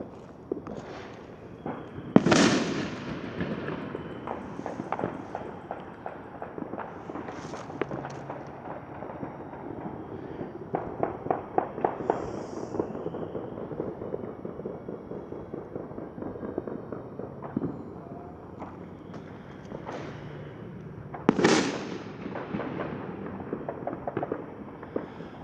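New Year fireworks go off over Savannah, Georgia: two sharp nearby bangs stand out above a steady stretch of distant crackling, popping and rumbling that runs throughout.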